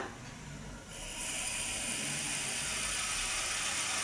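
A gas stove burner is switched on to heat syrup for thong yot, a Thai egg-yolk dessert. A brief igniter click is followed by a steady, soft rushing hiss of gas flame that continues at low level.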